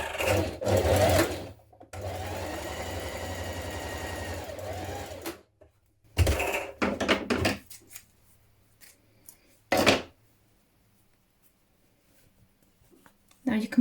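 A sewing machine stitches along the right side of blouse fabric, running in a steady whirring burst, then several short bursts and a final quick run, with quiet gaps and handling sounds between.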